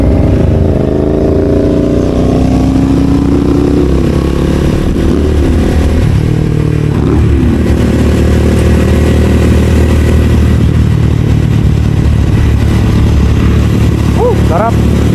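A big bike motorcycle engine roars loud and close, revving up and down through rising and falling pitches over a deep rumbling base, with people talking over it.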